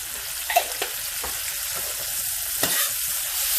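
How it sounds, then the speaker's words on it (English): Minced garlic sautéing in a hot pan, a close, steady sizzle with scattered stirring scrapes and light clicks, no voices. "And just saute that around."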